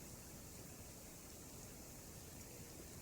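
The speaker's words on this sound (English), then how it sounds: "This is a small waterfall where it comes out of the pond." A small waterfall spills out of a woodland pond with only a little water moving, giving a faint, steady, even rush of flowing water with no voices.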